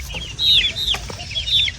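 Fighting-breed roosters in a Namangan yard give a few short, close clucking calls in quick succession, with a soft thump partway through.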